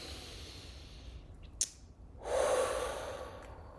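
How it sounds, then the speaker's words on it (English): A deep inhaled breath during a calm guided breathing moment, heard as a sharp gasp-like intake followed by a longer, broad airy rush of breath close to the microphone. "take a deep breath in"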